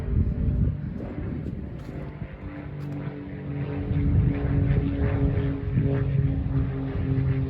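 A propeller plane drones steadily overhead above a sunflower-filled permaculture food forest in Colorado, a low continuous hum that swells louder toward the end and masks everything else.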